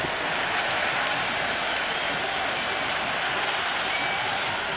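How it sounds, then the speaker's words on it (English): A stadium crowd in the video game Cricket 26 roars with steady applause and cheering, a dense, continuous wall of noise with no break during a T20 World Cup career-mode match. "It's the most enthusiastic crowd you could ever see right now. There's a buzz, a real buzz coming from the stands."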